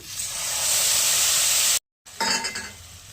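Spice mix dropped into hot frying oil for a Bengali potato curry with Gobindobhog rice gives a loud, bright sizzle and hiss, cut off abruptly, then a short burst of crackling and clinking.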